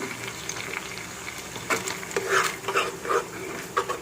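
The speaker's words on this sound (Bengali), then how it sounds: "এখন সব কিছু একসাথে এভাবে নেড়ে চেড়ে মিশিয়ে নিচ্ছি" Chicken fillets being stirred with soy sauce, tomato sauce and seasoning in a pan, soft bubbling sizzle with several sharp scraping stirs in the second half.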